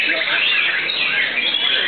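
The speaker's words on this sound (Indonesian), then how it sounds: "Murai Batu" A white-rumped shama sings loudly and continuously up close at a songbird competition, a rapid stream of bright chirps and warbling trills.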